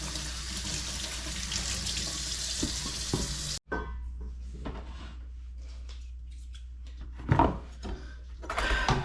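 Running tap water splashes into a sink as freshly harvested backyard rhubarb is washed. A steady hiss is broken by a brief cutoff, followed by quieter trickles and scattered clatters and splashes, with no talking.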